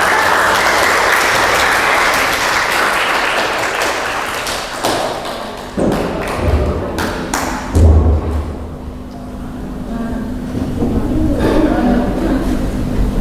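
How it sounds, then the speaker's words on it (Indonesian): Applause for a young woman during a Quran study session on Surah Ali Imran, a dense burst of clapping at the start that thins into scattered claps and taps, with light room noise. "Mbak Siwa, kasih aplaus"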